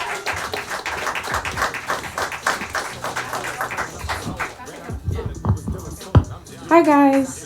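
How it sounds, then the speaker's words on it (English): Audience applause at a poetry showcase and open mic as a poet walks up to the stage, dense clapping fading into scattered claps and a few voices. "Clap her all the way up to the stage."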